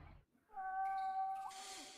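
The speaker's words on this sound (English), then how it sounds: "You can hear the cat." A cat in the horror game The Last Door gives a single drawn-out meow that rises and then falls. It is faint but clear against a quiet background, with no talk.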